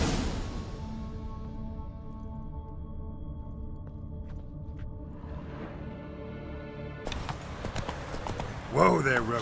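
Horse hooves clip-clopping in The Witcher 3, with game music, ambient tones and a voice nearby, ending with a louder burst of sound.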